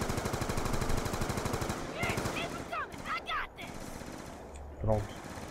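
Rapid automatic gunfire in Call of Duty Black Ops 2 Zombies, loud sustained bursts early, then broken shots and game effects while players talk over it.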